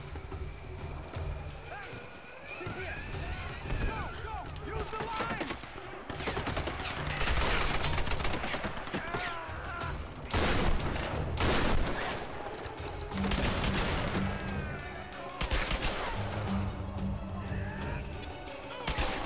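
Gunfire in Tomb Raider (2013) around a shipwreck beach: scattered shots and bursts of fire over ambient game noise, with someone talking excitedly over the action.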